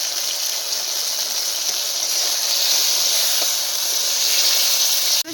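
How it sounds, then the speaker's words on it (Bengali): Mustard paste hisses and sizzles steadily in a hot pan of lightly fried fish with a little water, a loud continuous bright hiss that runs without a break before cutting off abruptly. "এবার এর মধ্যে একটু সর্ষে বাটা দিয়ে দেবো।"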